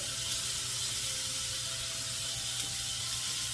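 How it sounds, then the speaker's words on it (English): Chopped onions cooking down in a pan until soft and translucent, a steady close sizzle and hiss of frying that holds evenly throughout with no talk. "we are going to cook some onions until they get soft and a little bit more translucent"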